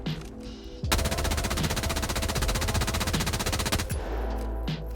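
Rapid automatic weapon fire from Helldivers 2, a long sustained burst of tightly spaced shots lasting several seconds, loud and close, with brief quieter game sounds before and after.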